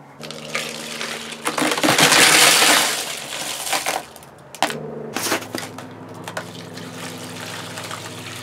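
Tumbled banded iron formation stones clatter loudly as they are dumped out with thick grit slurry, then water splashes and trickles over them during rinsing. A low steady hum runs underneath.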